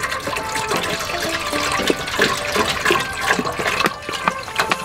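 Water runs steadily into a cooking pot, a continuous close gushing splash that carries on without pause.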